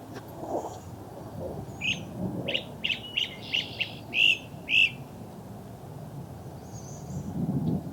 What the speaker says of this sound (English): I hear American goldfinch in the background.